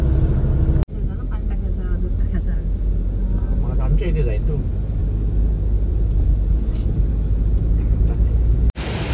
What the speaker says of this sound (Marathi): आता मी मस्त गाडी फिरवतोय